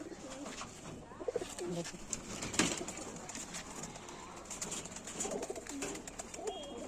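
Pet pigeons kept for flying, their soft, low cooing repeating under steady background noise, with a few sharper knocks and a faint voice in the mix.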